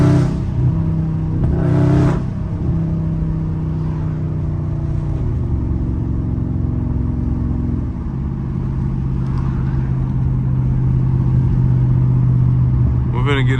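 Two Dodge Scat Pack cars drifting, their engines droning loud and steady with revving swells throughout, close and constant, with voices mixed in.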